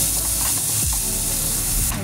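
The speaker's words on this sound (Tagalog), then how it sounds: "Add natin yung sausage." Sausage sizzling and frying in a pan while being stirred, a steady hiss with scraping stir strokes, close and loud with no talking.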